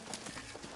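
Hooves clip-clop in a quick, steady rhythm, fairly close, over a brief moment with no talking.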